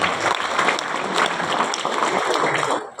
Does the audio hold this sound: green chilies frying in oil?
no